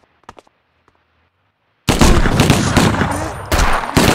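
Gunfire erupts in the video game 25 To Life, a loud, sustained burst of rapid shots that cuts in after near silence and a few faint clicks, then briefly dips before resuming.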